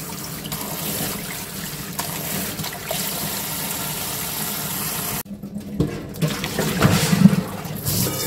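Running water pours steadily from a tap as delicate sangchu lettuce leaves are rinsed by hand for kimchi, with brief handling splashes and dribbles near the end.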